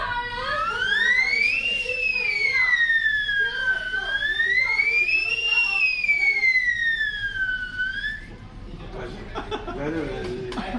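A man vocally imitates a fire engine siren with smooth rising and falling wails held for about eight seconds, loud and close, followed by brief chatter and background noise.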